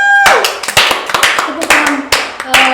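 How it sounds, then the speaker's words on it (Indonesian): A crowd applauds in a burst of clapping at an event about export strategy and agribusiness, with sharp loud claps and a bit of talking mixed in. "Tepuk tangan."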